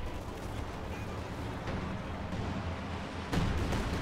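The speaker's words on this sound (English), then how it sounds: "And we have an artillery gun from somebody here." An artillery gun in the Company of Heroes 2 video game fires amid a quiet, rumbling battle backdrop, with a sharp, heavier report near the end.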